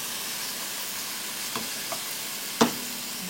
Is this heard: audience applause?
no